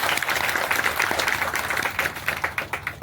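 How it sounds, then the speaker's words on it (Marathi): An audience claps loudly at a health card launch ceremony by a foundation in Dombivli, a dense steady wash of applause that ends in a few separate claps. "या सर्व देवांसाठी जोरदार टाळ्या वाजवा."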